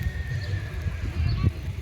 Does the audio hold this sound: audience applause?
no